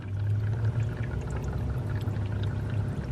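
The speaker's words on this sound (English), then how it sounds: "The water and fuel light was on, so I'm gonna go ahead and purge this." Water and fuel being purged from the fuel-water separator of a diesel truck, a steady rushing, pouring flow with a low hum beneath it, close and continuous for the whole stretch.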